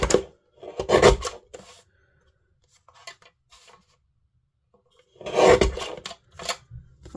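Hair or fur trimmed all the way around during a rescue grooming, heard as short bursts of rasping, snipping strokes in two clusters separated by a quiet stretch with faint scattered clicks.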